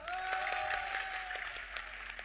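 An audience at a religious discourse applauds steadily, a dense wash of clapping held at moderate loudness for the whole stretch, with a faint tone sustained underneath.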